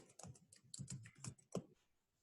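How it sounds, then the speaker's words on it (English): Fingers type on a computer keyboard, a quick irregular patter of close, fairly quiet key clicks lasting about two seconds. "You could see I actually are typing here"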